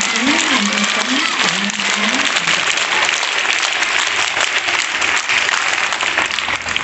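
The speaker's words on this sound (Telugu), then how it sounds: "ఐపీఎస్ గట్టిగా చప్పట్లు కొడుతూ అభినందనలు అందజేయండి" An audience claps at a school event at Sri Saraswathi Shishu Mandir High School in Saidabad, Hyderabad. The applause is dense and sustained, loud and continuous, with a voice heard faintly over the first couple of seconds.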